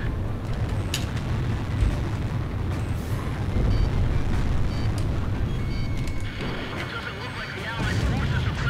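Bombs explode in the Ace Combat Zero flight game, a deep rumbling boom that rolls on over steady engine and battle noise with no pause, loud and dense for the whole stretch.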